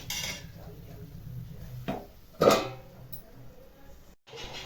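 A metal lid set onto a cooking pot of wild vegetable curry, giving a single clear clink midway through, amid faint kitchen background noise and light rattling of cookware.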